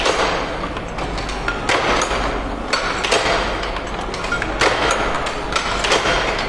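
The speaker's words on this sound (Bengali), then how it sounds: "Machine running." A letterpress printing machine runs in a print shop, giving a loud, continuous mechanical clatter with repeated sharp knocks and thumps at an irregular cycle.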